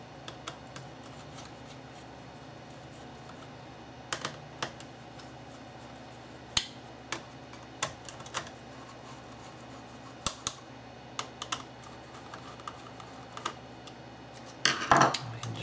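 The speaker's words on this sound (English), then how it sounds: "we're just using the screwdriver, we're going to take off 1, 2, 3, 4, 5 screws which hold the heatsink in place" A screwdriver loosens the heatsink screws on a Dell Inspiron 1545 laptop, producing sparse small clicks and ticks spread over a quiet background, with a brief clatter near the end.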